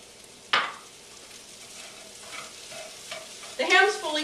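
Cubed ham is stirred into a hot pan with sausage, bacon and peppers, giving a soft sizzle with scraping stir strokes and a louder burst of frying near the end; no one talks.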